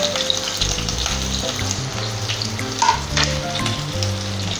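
Roughly chopped vegetables and spices for kadhai paneer fry in oil in a pan, a loud, steady close sizzle with crackles and a few brief stirring scrapes.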